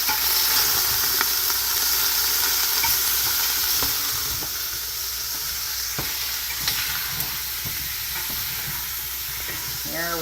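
Partly frozen beef chunks for beef stew sear in a hot pot, giving a steady, loud broadband sizzle with a few scattered pops and clicks throughout, close by and without talk.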